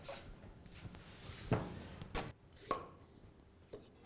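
A knife chops an onion on a board in a quiet kitchen, with four or five separate, fairly sharp knocks spaced irregularly over a few seconds.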